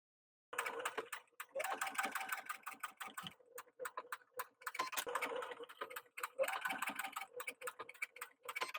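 A sewing machine stitches a bag strap onto a side seam, running in rapid repeated bursts with short pauses between, close and steady, with a faint voice present.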